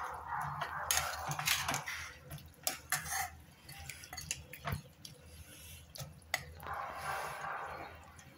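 Chicken in water and masala gets stirred in a pot, with soft scraping and clinking of a spoon against the metal, quiet and close with no voice.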